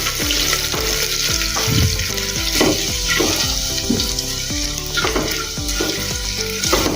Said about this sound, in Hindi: थोड़ा सा इसको भुनेंगे, अदरक और लहसुन को।